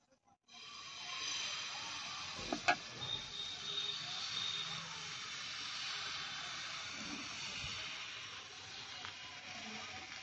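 Batter is poured into a hot pan and hisses steadily, a soft sustained sizzle rising after a short quiet start, with a couple of faint knocks early on.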